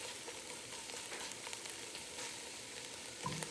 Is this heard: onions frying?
yes